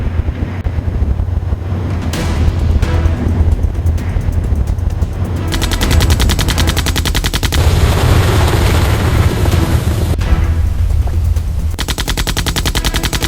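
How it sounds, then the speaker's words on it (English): Naval gunfire from the Admiral Hipper's 203mm forward guns: a loud, relentless barrage of rapid booming shots and blasts that keeps up for the whole stretch with no voices. "The Admiral Hipper's forward guns erupt, launching 203mm shells, each weighing over 200 kilograms."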